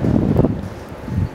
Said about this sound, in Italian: il rumore del vento, se si sente.